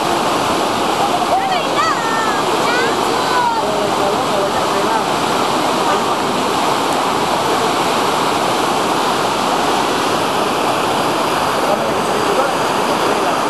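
A river flows loudly and continuously at an outdoor riverside activity site, a dense broadband rush close by, with faint voices and a few high calls briefly audible beneath it.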